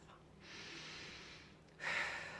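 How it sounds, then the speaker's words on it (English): A single deep breath, drawn in slowly and then let out, heard close and alone with no talking. "I'm going to take a deep breath"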